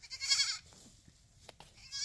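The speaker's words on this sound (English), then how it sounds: "when that brown and white goat started" A brown and white goat on a homestead gives two short, nasal bleats, one at the start and one at the end, close by, with quiet outdoor background between.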